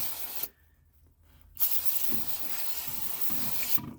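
Aerosol brake cleaner hissing onto the oily engine block of a 2007 Arctic Cat Prowler 650, a close burst of spray, a brief pause with faint dripping and trickling, then steady spraying again.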